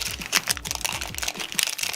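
A new plastic trading card pack wrapper crackles and crinkles up close as it is handled and opened, with quick, irregular crisp rustles throughout.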